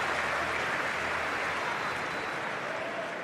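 A tennis crowd applauds steadily throughout after a rally in a professional match between Felix Auger-Aliassime and Sebastian Korda, a dense, even clapping wash that holds at a constant level with no voices.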